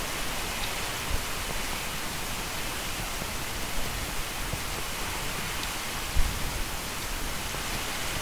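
Steady, even rain hisses without pause in the Minecraft video game, a constant wash of falling drops with no voices.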